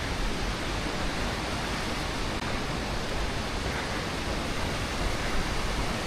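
A big waterfall in North Cascades National Park roars as a dense, steady wash of falling water with no pauses and no voices.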